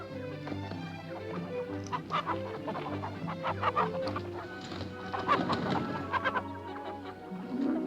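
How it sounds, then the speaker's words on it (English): Several hens cluck and chatter irregularly over a low, steady hum, their calls moderately close and scattered throughout. "They're my hens."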